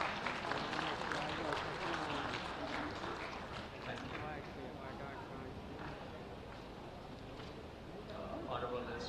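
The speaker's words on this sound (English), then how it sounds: "Please welcome Mr. Yannick Alokau with a huge round of applause" An audience applauds to welcome a speaker on stage at a sports-sector investment event, a broad, distant wash of clapping from a large crowd, steady and fairly faint.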